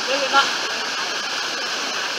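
Kuang Si waterfall near Luang Prabang, a steady broadband rush of falling water close by, with a brief voice near the start.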